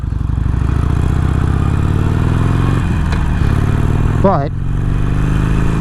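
Harley-Davidson Sportster Iron 883 cruiser engine and exhaust idling and revving in a steady, loud, close rumble, with a brief clatter partway through and someone talking over it.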